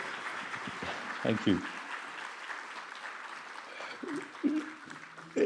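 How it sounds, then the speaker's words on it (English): Faint audience applause at a conference, heard underneath a speaker saying a few words, with soft patter and a couple of louder bursts toward the end. "I hope you can hear the applause of the public for you here today"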